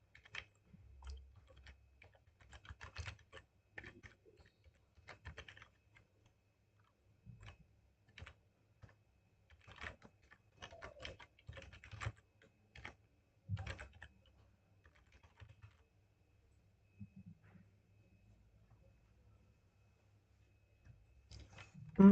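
Typing on a computer keyboard: clusters of quick, close, crisp key clicks broken by short pauses and quiet gaps, played alone without speech.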